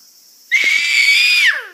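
A young child lets out one loud, high, sustained scream lasting about a second, shrill and piercing, close to the listener.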